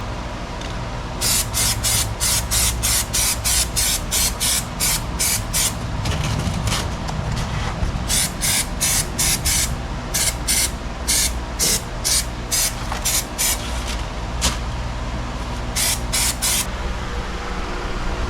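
Black rubberized undercoating sprays onto a car in repeated hissing bursts, loud and close, separated by short pauses.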